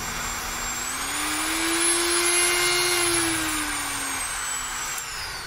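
A handheld power drill with a 6 mm chuck runs steadily and fairly quietly, its motor whine holding a constant pitch that rises slightly in the middle and then eases off, with no one talking over it.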